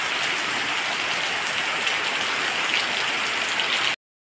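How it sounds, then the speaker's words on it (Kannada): Steady rain pours down in a continuous, loud hiss with no pauses, then stops abruptly. "ಇಲ್ಲಿ ಮಳೆ ಬರ್ತಾ ಉಂಟು"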